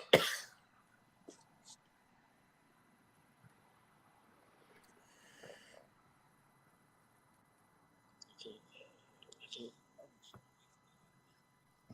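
Several short coughs and throat-clearing bursts from a live-stream host previewing WrestleMania, one sharp cough at the start, then quieter scattered coughs and faint whispery sounds over near silence.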